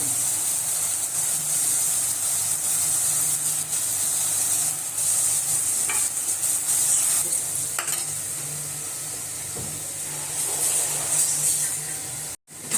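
Spices with asafoetida sizzle steadily in hot oil for chole, a bright continuous frying hiss with occasional close stirring scrapes of a spoon in the pan.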